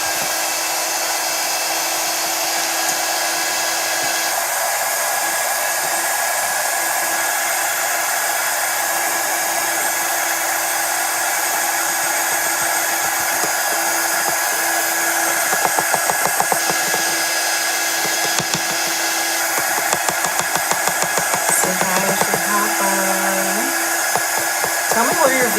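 A hair dryer runs steadily and fairly loud, blowing on chalk paint on a sunflower gnome craft, with a constant airy whir throughout and occasional light clatter near the end.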